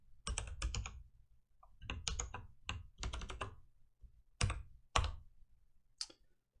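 A computer keyboard clatters with quick clusters of keystrokes separated by short pauses, close and fairly quiet, with no voices over it.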